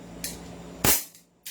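Airsoft pistol fired in single-fire mode, one sharp close crack followed by a quick decaying mechanical clatter, bracketed by two softer clicks.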